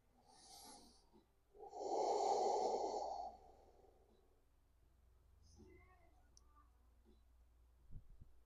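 Audible breathing during a slow vinyasa yoga flow: a short exhale, then a longer, louder breath lasting over a second, followed by quieter breaths and small clicks in a calm room, with no talking.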